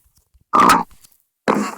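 Two short, loud pig grunts from a video game, separated by a second of silence, close and clear with nothing else around them.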